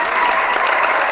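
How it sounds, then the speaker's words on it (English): Brief, steady applause rises from the studio audience of a boxing talk show, a short dense patter of clapping without a break. "let's give the people in the room a round of applause"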